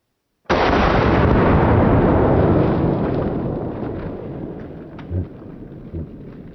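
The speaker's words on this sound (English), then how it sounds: "I'm sure all these rounds are gonna explode these watermelons" A 45-70 rifle firing a round into a watermelon outdoors: one sudden, very loud blast that rolls and decays over several seconds, followed by two faint thuds.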